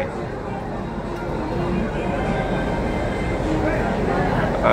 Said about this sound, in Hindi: हुबली एक्सप्रेस को तो शंट किया जा रहा है भाई